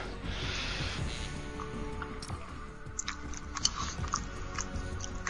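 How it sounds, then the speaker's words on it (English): Someone chews loudly close to the mic, with wet, crunchy bites and smacking in an irregular rhythm under faint background noise. "you think you could chew a little bit louder?"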